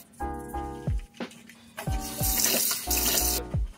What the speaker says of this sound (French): je me lave le visage deux fois d'affilée pour vraiment enlever tout